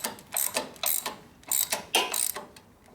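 A ratchet tool cranks down a clamp on a 1958 Harley panhead 74ci engine. It clicks in several close, loud bursts of ratcheting with short pauses between them.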